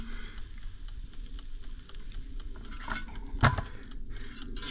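Sausages, bacon and hash browns cook in an air fryer in a campervan, giving a steady close sizzle and crackle with a louder clunk of the basket or pan partway through; no one speaks.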